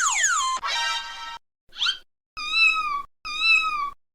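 A cartoon cat meows in several separate calls: two long wavering cries, a short squeak, then two clear drawn-out meows, loud and alone against silence.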